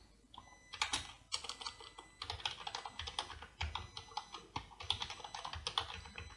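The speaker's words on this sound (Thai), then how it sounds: "ใส่พาสเวิร์ดของเราเข้าไป" A password is typed on a computer keyboard: quick, close, irregular key clicks that go on for several seconds, quiet overall, with no talking.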